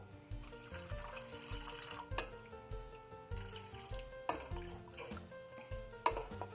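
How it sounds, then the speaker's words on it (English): Water pours and splashes steadily into a pot of fish gravy on the boil, a continuous liquid rush with faint clinks, heard close and alone. "Adding some more water."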